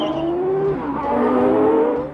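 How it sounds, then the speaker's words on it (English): Indy race cars accelerate onto the track, a loud, steady engine roar whose pitch climbs and shifts over about two seconds, with no talk over it. "Look how fast these Indy cars accelerate onto the track."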